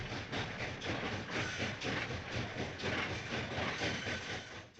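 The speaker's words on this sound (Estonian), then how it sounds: "Lõpuks hakkab rong aga linna jõudma." Train arriving in a town, rolling along the tracks with a steady rumble and rhythmic clickety-clack, moderately loud and continuous.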